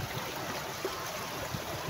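Water flows through an irrigation channel leading to farm fields, a steady soft rushing murmur with faint gurgles throughout the short stretch.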